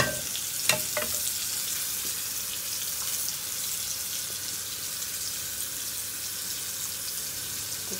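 Oil heats in a pan with a steady, continuous sizzle and crackle, a few sharp pops near the start and no voices, for preparing hilsa fish with tangerine peel.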